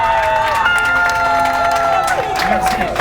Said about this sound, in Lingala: Est-ce qu'on peut applaudir pour les nouveaux membres du groupe?